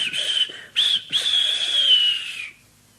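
A steam engine whistle from the Roblox game version of Thomas the Tank Engine sounds in short impatient toots, then one long sustained shrill blast that fades out, clear and close with no talk.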